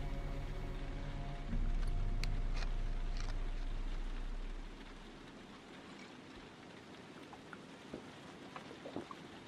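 Rain falls outside in the video game Heavy Rain, a soft steady hiss of drops with a low rumble that fades partway through, leaving faint patter and small clicks.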